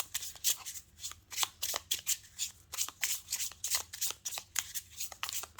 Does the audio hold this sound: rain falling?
no